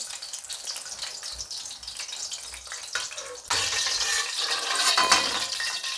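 Fish frying in a pan in a home kitchen, a steady crackling sizzle with a hissing wash that grows louder and denser partway through as oil spatters, with no talking.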